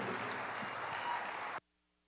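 Audience applause rings out at a youth fair market steer show in Polk County, a steady crowd clapping that lasts about a second and a half before cutting off abruptly.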